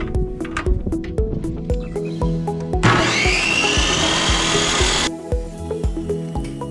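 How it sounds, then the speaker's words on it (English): A table saw slices through a cedar plank for a porch swing support, a loud whining cut of about two seconds rising over a rhythmic music backing, with quieter shop sounds before and after. "cut them to size using my table saw"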